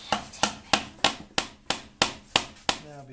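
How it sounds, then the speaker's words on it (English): Nine evenly spaced, sharp hammer strikes drive a nail into a wooden jig for a cub car wheel, loud and close, with a brief metallic ring at the end. "And we need a hammer, Lee."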